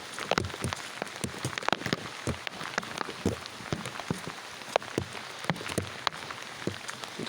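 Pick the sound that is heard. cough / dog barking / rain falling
rain falling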